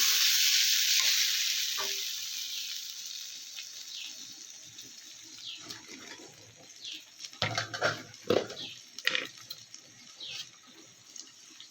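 Spices for a mild vegetarian jackfruit curry stirred in a pan after water is added, a loud sizzle that fades and settles, then scraping, clattering stirring strokes toward the end, no speech.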